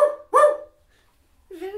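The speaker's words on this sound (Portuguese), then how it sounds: "Late aí, Pluto" A small dog gives two quick barks close by, followed by a pause and a third softer, higher yip.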